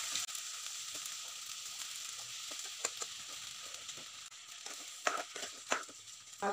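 Cooked rice goes into a pan of frying peas with turmeric for egg paneer pulao, giving a soft steady sizzle broken by scraping, crunchy stirring strokes.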